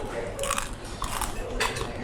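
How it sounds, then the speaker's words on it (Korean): Crunchy bites into crispy roast suckling pig skin from a Bali barbecue plate, with several crackling bursts close to the microphone over a busy background hum. "마지막으로 껍데기, 크리스피 돼지 껍데기."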